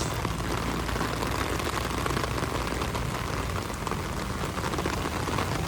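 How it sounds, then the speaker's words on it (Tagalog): Heavy rain pours nonstop during Typhoon Carina at the flooded Marikina River, a loud, dense hiss of drops hammering surfaces with no letup and no voices. "bumuhos na naman yung napakalakas na ulan dito"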